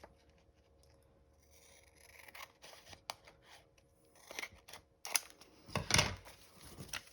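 Scissors cutting a paper craft tag, a string of quiet snips and rustles close by that grow louder and sharper toward the end.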